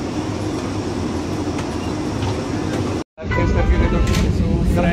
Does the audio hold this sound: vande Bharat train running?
yes